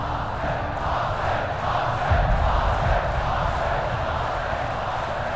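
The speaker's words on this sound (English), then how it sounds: "He watches as the crowd jumps and yells, ready to see the fight." Large crowd filling a Colosseum-style arena, a steady dense roar of cheering and yelling with a brief swell midway.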